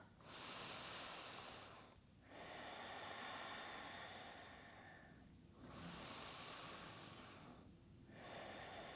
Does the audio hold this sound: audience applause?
no